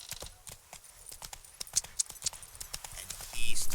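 Roach, a horse in The Witcher 3: Wild Hunt's Blood and Wine, trots with steady clip-clopping hooves close by, a voice speaking over the rhythmic footfalls and a louder rush near the end.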